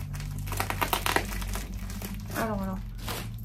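Crinkly plastic packaging around wrapped items being handled and unwrapped, giving bursts of close rustling and crackling while someone speaks over it.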